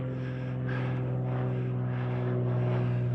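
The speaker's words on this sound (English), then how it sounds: "Fucking airplanes." An airplane flies overhead outdoors in the heat, its steady propeller-like engine drone loud and continuous throughout, with no talking.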